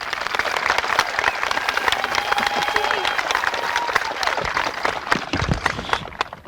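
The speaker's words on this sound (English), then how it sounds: "Please welcome me in a round of applause for Mr." Audience applause at a 2019 Cotulla High School graduation ceremony, a steady wash of clapping from a large crowd holding for several seconds with some cheering mixed in, before tapering near the end.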